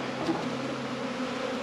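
Honey bees buzz steadily and close during a pre-almond-pollination hive inspection, a continuous dense drone with no voices.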